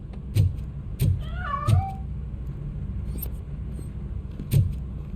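A cat in the game RoboCop: Rogue City meows in several short, rising and falling calls close by, with low rumbling ambience underneath and soft thuds between calls.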